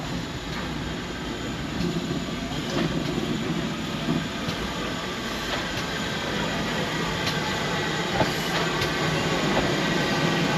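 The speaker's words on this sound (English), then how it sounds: "Here's our locomotive just arriving in the station." Steam locomotive number 65, built in 1896, rolls into a heritage railway station during a steam festival, a steady broadband rumble of wheels and running gear with faint clanks and hiss, fairly close and continuous with no talking.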